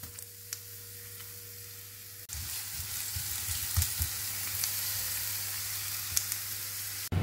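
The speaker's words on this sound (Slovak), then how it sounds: "Takže dáme si smažiť cibulku zatiaľ." Finely chopped onion fries in a pan, giving a steady close sizzle, broken by occasional stirring scrapes and pops and rising in intensity after a couple of seconds.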